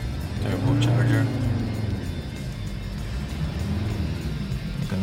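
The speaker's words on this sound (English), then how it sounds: "You can also hear the engine" An Alfa Romeo 159 2.4 turbocharged engine idles with a steady low rumble heard from inside the car, slightly louder in the first second, while a person talks over it.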